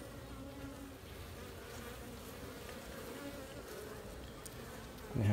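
A dense, steady hum of many honeybees swarms around an open beehive, close and continuous, with a brief louder thump near the end.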